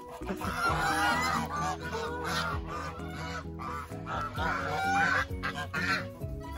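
Several African and Toulouse geese honk loudly and continuously close by, overlapping harsh calls forming a noisy, insistent chorus.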